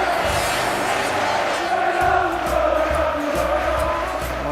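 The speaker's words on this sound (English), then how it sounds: "Palace fans cheering that goal by Jeff Thomas" Crystal Palace football fans roar in a stadium after a headed goal, a loud sustained crowd cheer with bellowing voices swelling and rolling continuously throughout.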